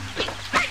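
A brief duck-like quack from the PS2 game Ice Age 2: The Meltdown, two or three short nasal calls rising over quiet game background within a second.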